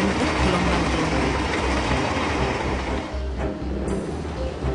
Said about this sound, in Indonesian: Energi bunyi yang ditimbulkan akibat gesekan roda dengan rel ditransmisikan atau dirambatkan oleh rel.